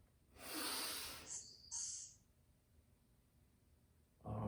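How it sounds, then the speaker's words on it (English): A long forceful exhale through the nose during a yoga breathing practice, a close breathy rush of air followed by short softer breaths, then quiet. "Exhale everything out."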